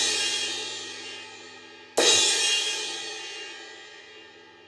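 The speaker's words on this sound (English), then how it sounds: "The next one would be the crash cymbal" A drum kit crash cymbal is struck twice, loud and close, each hit a bright, splashy burst that shimmers and slowly decays, with no voices.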